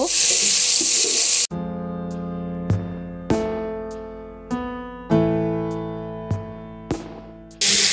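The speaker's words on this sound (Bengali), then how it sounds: "আমি এগুলাকে একটু ভেজে নিব সিদ্ধ হওয়া পর্যন্ত।" Yardlong beans and dried Bombay duck fish fry in a hot pan, a loud steady sizzle at first, then quieter frying broken by several sharp stirring clanks of a utensil against the pan.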